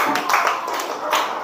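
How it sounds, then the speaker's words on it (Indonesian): A class of schoolchildren claps hands for a student group in a primary school classroom, a dense, steady patter of many small hands close by, with no talk over it. "tepuk tangan untuk kelompok leci"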